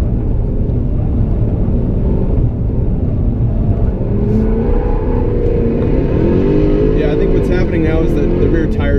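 Jaguar F-Type R engine roars and revs hard as the rear end slides around a figure-eight course, tires smoking, with a steady loud rumble and rising revs throughout and a voice talking over it.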